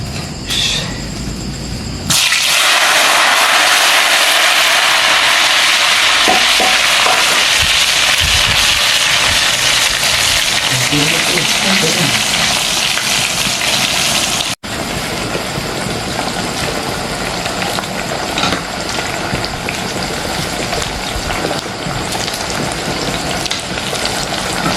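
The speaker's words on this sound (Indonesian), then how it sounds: "Sama sekalian goreng tempe." Tempeh frying in a pan in a simple village kitchen, a loud, steady sizzle that starts abruptly after a brief pause and hisses continuously, close up, with no talking.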